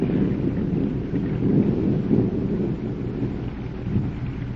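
Steady heavy rain pours down while low rolling thunder rumbles through it, a dense, continuous wash of sound with no voices.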